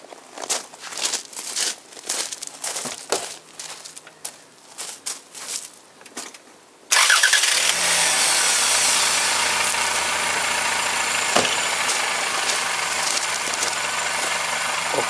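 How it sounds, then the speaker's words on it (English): Clicks and shuffling noises, then a car engine cranks after its dead battery is charged, catching with a sudden roar and settling into a steady, close idle. "I need to right away start this car engine"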